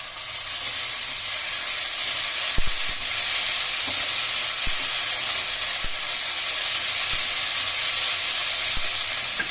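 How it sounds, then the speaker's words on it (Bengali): Onion, garlic and ginger paste sizzle steadily in hot oil in a pan, with a continuous bright hiss and occasional scraping taps of a spoon stirring, close and clear with no talk. "আমাদের পেঁয়াজ রসুন ভাজা ভাজা হয়ে গেছে একটু আদা বাটাটা দিয়ে দেবো"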